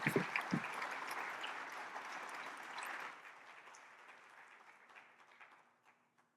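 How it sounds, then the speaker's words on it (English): Audience applause for Dr. Resnick at the 2025 Stibitz Wilson Awards, a dense round of clapping that starts strong and gradually thins and fades over several seconds. "One more round of applause for Dr."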